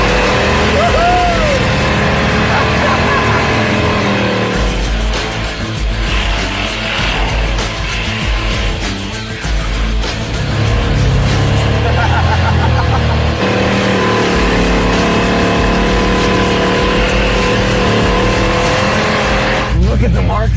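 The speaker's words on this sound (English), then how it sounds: "We didn't drive this engine 3 feet before smoking tires." A car with a swapped-in engine doing donuts in a parking lot, engine roaring at high revs with tires squealing and smoking almost continuously, loud and close, with excited voices shouting over it.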